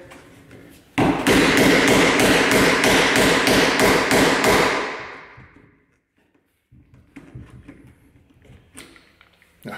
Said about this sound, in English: We'll just flip this one here, try chisel off the top section again.